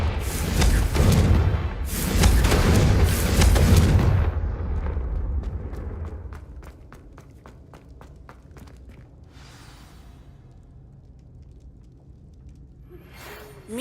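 A Confringo spell explosion in a wizarding video game: a loud, rumbling blast that swells for a few seconds, then decays into a tail of scattered crackles and ticks before a brief final sound.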